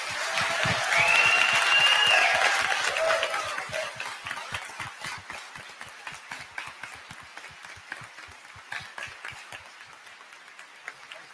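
Audience applause at a congressional candidate forum for New York District 19, a loud burst of crowd clapping that swells in the first few seconds, then thins into scattered, fading claps.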